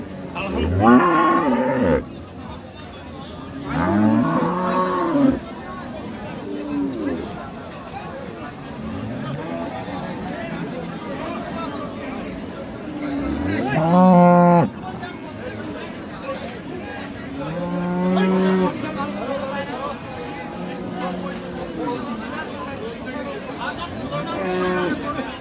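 Friesian cows moo repeatedly, several long low calls rising over a busy cattle market crowd in Ambari, Dinajpur, with people chattering throughout.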